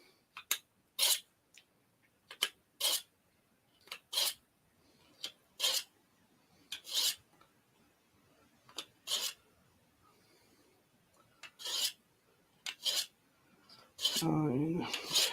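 Knife sharpened on an abrasive stone: repeated short bright rasping strokes in an irregular rhythm, close and fairly loud, separated by quiet gaps, ending in a longer sustained scrape.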